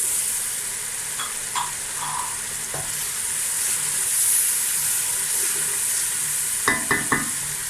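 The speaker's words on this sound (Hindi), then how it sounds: "अब ये मसाला भुन गया है" Ginger masala fries in a pan for chicken curry, giving a steady close sizzle and hiss with a few scattered stirring taps and a short cluster of scrapes near the end. No one speaks.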